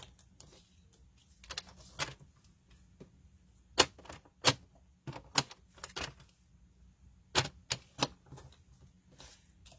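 Paper for card making is trimmed on a cutter, giving sharp, quiet slicing clicks and snaps in irregular clusters against a near-silent room, with no talk.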